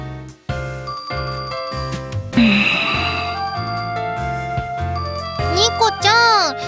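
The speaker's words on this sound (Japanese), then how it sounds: "電話鳴ってるにゃ" A phone rings in the video game Love Live! SIFAS, a bright chiming electronic jingle of tinkling tones. It ends in rising, warbling notes and is loud and close.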